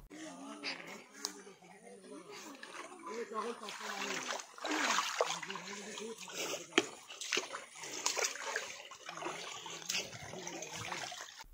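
Footsteps wade through a small, shallow river over slippery stones, with steady splashing and sloshing close by and voices murmuring in the background.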